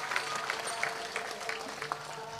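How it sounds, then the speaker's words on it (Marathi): Audience applause at a Marathi kirtan devotional gathering, a steady wash of many hands clapping at moderate distance that keeps up evenly for a few seconds with no voices over it. "म्हणून साहेबांसाठी एकदा जोरदार टाळ्या वाजवा."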